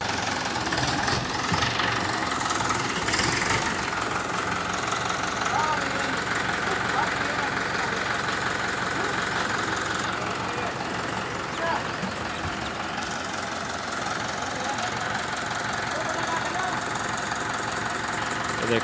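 A Mahindra 575 DI tractor engine chugs continuously at a steady idle-like knock outdoors, its rough rumble staying level throughout while voices are faintly present.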